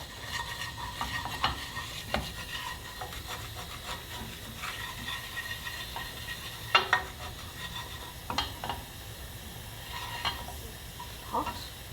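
Chinese spicy pork mince frying and being stirred in a pan with salt, a low steady sizzle under repeated soft scrapes and a few sharper knocks of a utensil against the pan.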